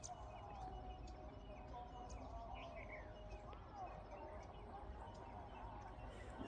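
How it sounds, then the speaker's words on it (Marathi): Birds chirp and call in a forest along the Narmada pilgrimage route, scattered short tweets over a steady low hum of insects and distant ambient noise, faint and far off. "पक्ष्यांचा आवाज"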